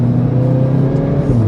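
A VW Golf R 8.5 with a power-valve resonator-delete exhaust gives a steady, close, low droning engine tone that holds evenly throughout, with no talk.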